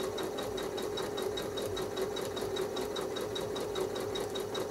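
A sewing machine doing free motion quilting runs steadily, with a fast, even mechanical stitching rhythm and a constant hum throughout, close and without talk.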